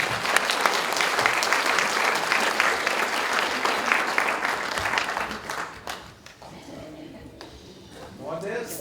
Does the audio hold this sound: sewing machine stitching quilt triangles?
no